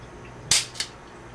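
Two sharp mechanical clicks of an unloaded gun being dry-fired, a louder snap followed about a third of a second later by a lighter one, close and otherwise quiet.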